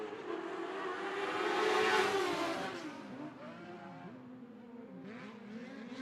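Dwarf race cars roar around the Sunset Speedway oval in a tight pack, engines swelling loudly as they pass close, then fading with shifting revving pitches as the field spreads out.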